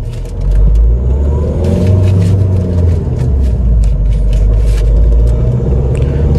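Loud, steady low rumble of the diesel engine in a Mahindra XUV500 on the move, with road and wind noise filling the cabin and a slight rise in engine drone as it pulls along.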